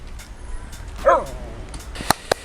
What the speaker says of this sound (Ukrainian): На кого ти гавкаєш, там немає нікого.